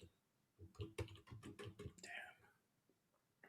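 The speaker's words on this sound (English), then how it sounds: "You cannot type. Just keep typing." Quick bursts of close computer keyboard typing clatter in a rapid run of clicks, with soft voices murmuring around them.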